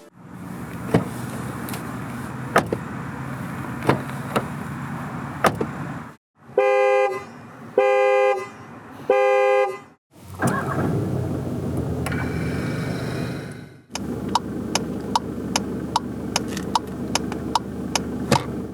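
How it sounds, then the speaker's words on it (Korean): Sounds of a 2021 Volkswagen Passat GT in separate segments: steady interior hum, a few short horn toots, then mechanical whirring and clicking, all without talk. "잠시 파사트 GT가 들려주는 감성 측면의 소리를 들어보겠습니다"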